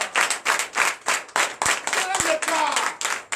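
A congregation claps in acclamation during a church deliverance and prophecy night service, with loud, steady rhythmic claps throughout and voices mixed in among them.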